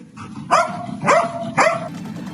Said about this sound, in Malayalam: German ബ്രീഡായ great Dain ഇനത്തിൽപ്പെട്ടതാണ് Rocky.